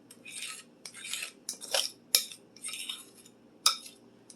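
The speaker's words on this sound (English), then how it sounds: "I'm going to mix up a second bowl" Pancake batter being mixed in a bowl makes close, rhythmic scraping and whisking strokes with a few sharp clinks of utensil against the bowl, and no voices.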